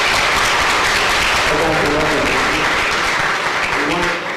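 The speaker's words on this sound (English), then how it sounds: "how about another round of applause?" Loud, dense applause from a lecture audience fills the whole stretch, steady clapping that tapers slightly at the end.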